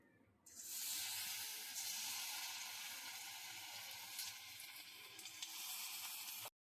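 Baby corn 65 pieces drop into hot oil and fry with a sudden, steady bright sizzle and hiss that holds for several seconds, then cuts off abruptly, with no talking.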